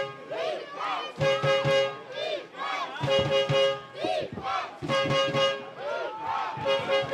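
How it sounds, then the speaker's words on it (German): Spectators at an American football game between the Ebenfurth Mustangs and Dragons cheer and shout as a crowd, with repeated horn toots cutting through the roar, a loud, sustained din with no speech. "Stimmung ist gut, Publikum wird immer lauter."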